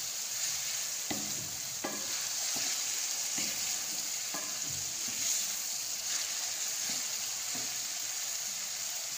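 Onions sizzle in hot oil with garlic and ginger, a steady close frying hiss broken by repeated scrapes and clicks of a spoon stirring the pan, with no talk.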